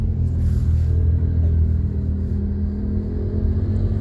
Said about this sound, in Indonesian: Nah, kita pindah gigi 3 nih, udah smooth.